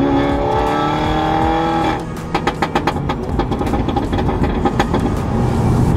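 A tuned Mini Cooper S on a Bytetronik stage 2 tune, around 300 hp, pulls hard in second gear from about 30 mph. A loud, rising engine note gives way to a rapid string of crackling exhaust pops and burble, with no talking.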